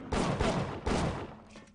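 Two sharp pistol gunshots in the first-person shooter Bioshock, each a hard broadband crack with a short decaying tail, spaced under a second apart over quiet game ambience.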